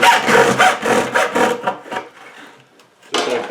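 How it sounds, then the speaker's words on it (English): Hacksaw cutting a straight line down toward a drilled hole, rapid rhythmic back-and-forth strokes, close and loud for about two seconds, then a brief lull before the sawing resumes. "Now I'm just going to take a hacksaw and saw a straight line down"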